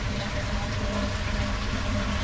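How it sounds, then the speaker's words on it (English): Water gushing steadily into a koi pond during a build, a continuous close rushing and churning flow with a low rumbling undertone and no pauses or voices. "Alright, this one's filling. So now we have water"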